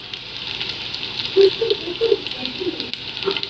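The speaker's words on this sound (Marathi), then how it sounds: "तेल छान तापलेलं आहे आता जिरं मोहरी टाकून घेऊ" Cumin and mustard seeds crackle and sizzle in hot oil while cooking besan pitla, a steady hiss with scattered pops close by.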